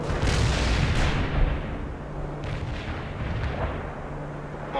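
Artillery barrage in the World in Conflict game, a dense roar of heavy booms and rumbling blasts that stays loud and continuous at first, then eases into a lower rolling rumble with further distant impacts.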